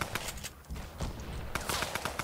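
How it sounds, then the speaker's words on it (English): Rapid gunfire bursts from the video game Fortnite during a Summer Skirmish tournament match, sharp repeated shots crackling close and at mid distance in uneven clusters, with no voices over them. "You just hear gunfire everywhere."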